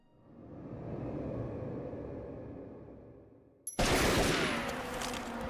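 Sustained automatic gunfire in the video game Tomb Raider: Legend, a steady distant rattle that swells and fades, then an abrupt, much louder close burst of shots near the end.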